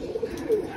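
A brief, soft cooing from domestic pigeons kept for kabootar bazi pigeon flying, with two short low notes close by and then a longer one.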